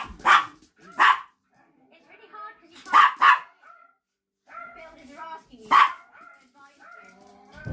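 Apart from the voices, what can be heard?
small dog barking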